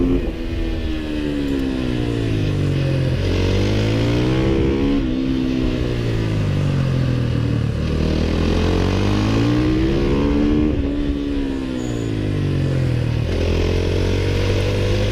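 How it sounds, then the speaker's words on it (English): A supermoto motorcycle at a race howls near and loud, engine pitch sweeping up and down through repeated downshifts and braking into a turn, with another bike's engine overlapping, no voices. "with a really jerky downshift and brake into turn 1, I managed to make that stick too."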